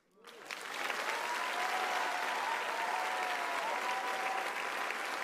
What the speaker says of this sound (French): On applaudit Johan.